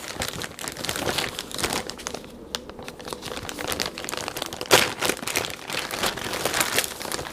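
Plastic Ziploc bag being pried open, with steady crinkling and crumpling throughout, a sharper tearing snap near the midpoint, and continuous close rustling of the plastic with no voices.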